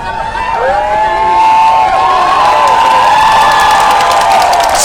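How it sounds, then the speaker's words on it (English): A large crowd of pro-democracy protesters at Bangkok's Ratchaprasong intersection chants and shouts in loud unison, with sustained voices and cheering filling the whole stretch. "So the crowd is chanting"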